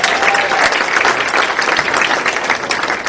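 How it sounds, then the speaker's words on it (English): A crowd at an awards ceremony claps in a steady, dense round of applause that holds at even loudness throughout. "So can you all give those folks a round of applause?"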